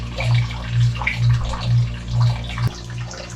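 Water runs steadily from a reverse osmosis filter faucet, a close, continuous flow with a low, rhythmic pulsing hum beneath it and a brief knock near the end.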